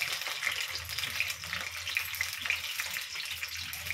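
Eggs frying and spattering in hot oil on a gas stove for an egg and potato curry, a steady close sizzle with scattered crackling pops and no talking.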